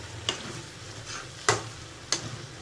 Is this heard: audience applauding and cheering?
no